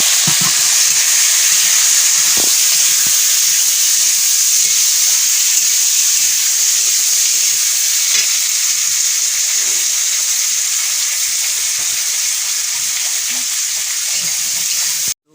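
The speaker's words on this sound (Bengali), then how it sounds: "কণিকা ততক্ষণ আলু ভাজতে থাকুক" Potatoes sizzle loudly and continuously in a pan of hot oil, a bright unbroken hiss close up, with faint occasional clicks and no voices.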